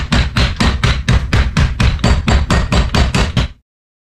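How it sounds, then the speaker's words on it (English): Meat being pounded out to an even thickness, a steady run of about fourteen loud, evenly spaced heavy thuds close up, ending abruptly. "just kind of pound that out lightly so it's even thickness all around"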